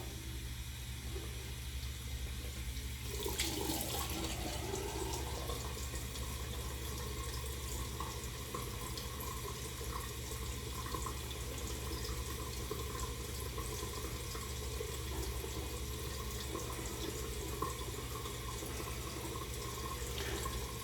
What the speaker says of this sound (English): I'm gonna go ahead and rinse all the soap off.